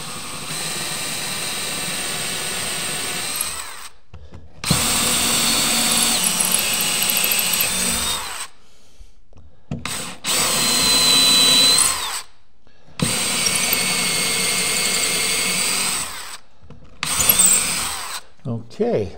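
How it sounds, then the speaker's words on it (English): A power drill bores a small pilot hole through a drawer face using a jig, running in loud steady whining bursts of several seconds, separated by short silences. "And then I just take my jig and I drill"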